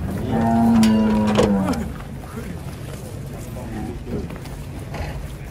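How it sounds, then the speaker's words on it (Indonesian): A Gunung Kidul cow at a busy cattle market with hundreds of animals gives one loud, close, drawn-out moo, then the noisy crowd carries on with people talking nearby. "Ratusan sapi gunung kidul di sini."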